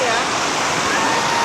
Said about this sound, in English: There are 4 levels to this waterfall complex.